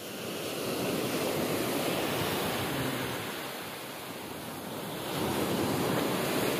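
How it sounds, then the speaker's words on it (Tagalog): Continuous roar of surf and wind, broad and rushing, swelling and easing slowly as waves build and break. "Laki na ng alon"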